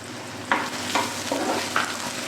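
Tomato frying in a pan with ginger and curry leaves, a close, quiet sizzle broken by four brisk stirring scrapes at an uneven pace.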